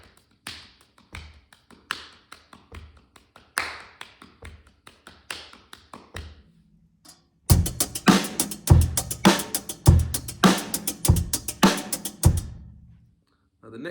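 A snare drum pattern counted in eights is tapped out, with soft quick hits at first and then a louder, denser run of sharp strokes before stopping, with no talking over it.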